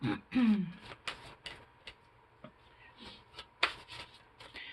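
Guidance cards shuffled and tapped in a quiet room, giving soft scattered riffles and light clicks, with a voice briefly heard at the start.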